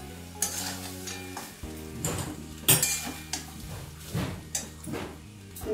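Jeera rice is stirred in a pot, with a spoon scraping and clinking against metal in uneven strokes over a low sizzle, set against soft background music.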